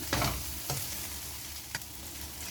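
Chilli chicken frying with dried chillies in a pan sizzles steadily, broken by a few sharp scraping stirs of a utensil against the pan.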